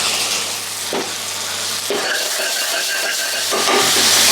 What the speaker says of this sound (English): we're going to soften up the onions, let the rawness of the garlic go